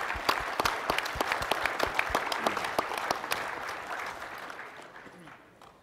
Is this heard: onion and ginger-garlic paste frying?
no